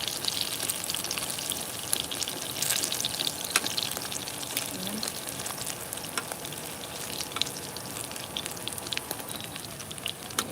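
Salted dried fish (daing) fries in dark, reused oil on a rooftop, making a steady, dense crackling sizzle with scattered sharp pops throughout, close and unbroken.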